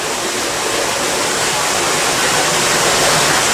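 Constant heavy torrent of water pouring from a 2-inch pump into a tank for a flood door test, a dense even rush that stays loud and unbroken throughout.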